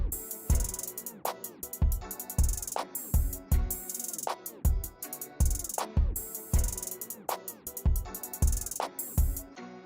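A drum beat with synths built on NI Maschine plays a steady, punchy groove of hard kicks and crisp snares under bright synth stabs, looping evenly and fairly quietly without any voices.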